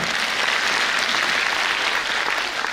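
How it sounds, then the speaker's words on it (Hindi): A ceremony audience at a spiritual dedication event breaks into loud, dense, sustained applause, many hands clapping together at an even level from start to finish. "जोरदार तालियां।"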